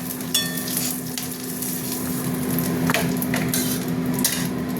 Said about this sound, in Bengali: ভালো করে ভাজা হয়ে গেছে, ডিমগুলো তুলে নিচ্ছি